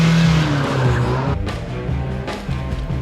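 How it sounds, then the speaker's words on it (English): A Mazda MX-5 Miata launches hard from a standstill on a track, its engine revving as the tires briefly squeal with wheel spin. The launch is loud and near, and the engine note surges in pulses. "Better launch, less wheel spin."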